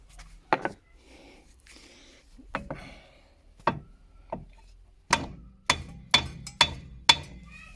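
A hammer taps on the control arm of a 1999 Opel Astra CC 2.0 during suspension work, giving sharp metallic knocks: scattered single hits at first, then a quick run of five or six close, loud taps.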